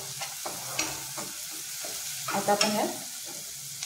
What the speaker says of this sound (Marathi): हे बघा, आता आपण हे व्यवस्थित असं परतून घेतलेलं आहे